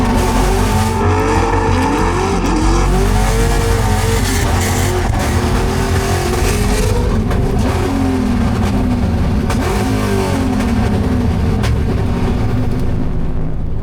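A Formula Drift Pro Am car runs hard through a drift course, its engine loud and continuous with wavering, sputtering revs as it breaks up, over a constant roar of tire and track noise.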